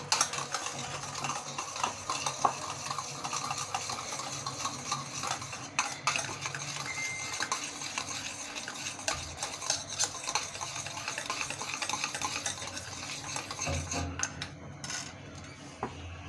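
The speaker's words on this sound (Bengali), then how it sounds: "ভালোভাবে এটা মিক্স করে নেব।" Steady close scraping and clinking as a utensil stirs cake batter with soybean oil and salt in a bowl, continuing rhythmically for about sixteen seconds with no speech.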